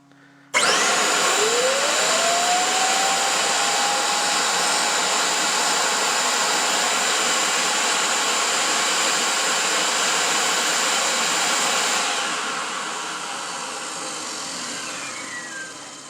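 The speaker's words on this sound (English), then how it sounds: "we're going to lightly run this brush stone against the armature as it's running" A Diamond Jet 1200 dust containment motor running with a brush stone held against its spinning armature to seat new brushes: a loud, steady whine that starts abruptly, rises in pitch as it spins up, then drops slightly in level near the end.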